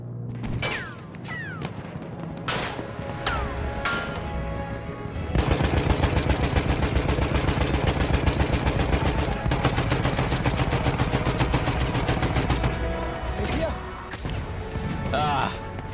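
Rapid machine gun fire in a video game, a long sustained burst of dense, rhythmic shots in the middle, with scattered gunfire and impacts before and after, loud and close, and a voice speaking in places.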